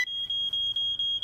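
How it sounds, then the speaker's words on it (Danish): In a Fireman Sam cartoon, a smoke alarm under test gives a rapid string of shrill, piercing beeps, about five in quick succession, loud and alone. "For at vise, om brandalarmen virker"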